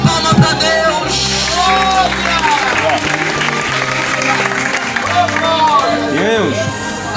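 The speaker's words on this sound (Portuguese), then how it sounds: "dê uma salva de palmas para Deus" Applause from a church congregation during an evening revival campaign service, a steady wash of clapping mixed with some crowd noise and cheering, with music continuing underneath for the whole stretch.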